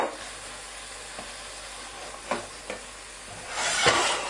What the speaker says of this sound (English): just stir that sauce through